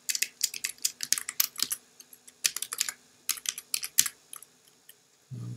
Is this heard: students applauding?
no